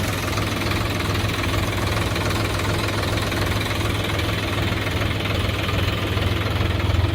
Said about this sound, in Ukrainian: Двигун на даному тракторі у нас від заводу Mitsubishi.